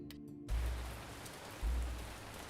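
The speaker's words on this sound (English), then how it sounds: "That rain is quite loud." Steady rain pours in the video game Ancient Cities, a dense, loud hiss with two deep low rumbles swelling underneath, no voices.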